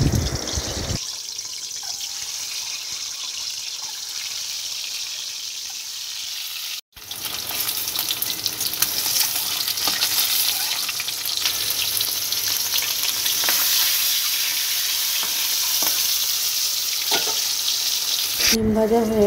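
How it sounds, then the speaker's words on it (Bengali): Eggs frying one by one in a wok of white oil mixed with mustard oil, a steady loud sizzle with a brief break, occasional stirring scrapes and a splash of tap water near the end; no talking. "এবার একে একে ডিমগুলো ভেজে নেব।"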